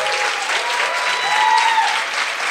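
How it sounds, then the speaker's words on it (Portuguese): Loud, dense audience applause at a panel session on territory and technological pluralism, a sustained even roar of many hands clapping with no speech over it. "Queria pedir palmas."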